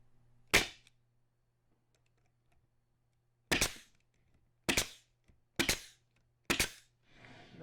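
A pneumatic stapler driving 1.5-inch staples into a wooden swarm trap: five sharp, loud pneumatic shots, one alone then four in quick succession, with a faint hum between them.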